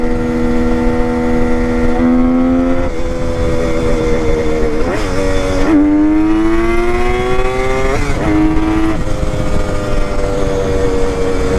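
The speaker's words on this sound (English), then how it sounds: "Dropped a couple gears, got on it, just left a trail of smoke behind me." A Kawasaki KH500 H1 motorcycle on its first shakedown ride accelerates hard through the gears. Its loud, close engine note climbs steadily in pitch, then drops sharply at each of three shifts, with steady wind rush and no voices.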